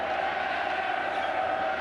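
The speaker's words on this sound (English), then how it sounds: "Leinster crowd getting behind the men in blue." Leinster rugby crowd cheering in a stadium during a match against Ulster, a dense, sustained roar of many voices that stays loud and even for the whole short stretch.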